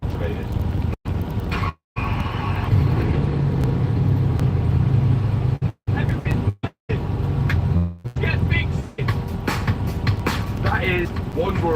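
A car engine, wired back to its original setup with a supercapacitor, turns over and settles into a continuous low rumbling idle, loud and close, broken by a few abrupt gaps.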